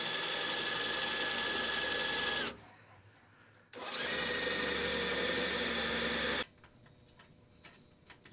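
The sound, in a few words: bolting a mount into a mini truck frame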